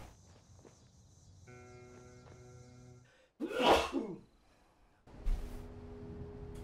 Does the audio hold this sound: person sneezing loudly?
yes